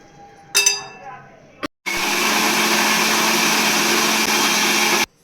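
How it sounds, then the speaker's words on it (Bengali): After a few clinks of the jar being set in place, a kitchen mixer grinder starts up and blends peeled mango into paste, giving a loud, steady motor whir for several seconds before it cuts off. "যে দুটো আম ছাড়িয়ে নেবো এগুলো ভালো এটা মিক্সিতে পেস্ট করে নেব"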